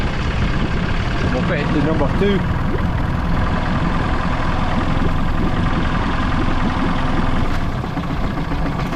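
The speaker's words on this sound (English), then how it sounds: "Engine's still running" A 1998 Mariner Bigfoot 25hp four-stroke outboard motor runs steadily at a rough idle throughout, close and fairly loud, while someone talks over it.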